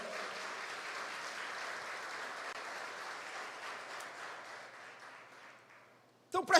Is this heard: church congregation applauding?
yes